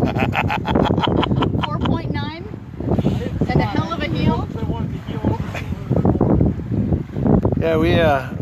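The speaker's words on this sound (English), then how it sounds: "we just experienced a little gust of wind" A gust of wind sweeps across a sailboat heeling on a lake, roaring steadily through the microphone beneath continuous close talking.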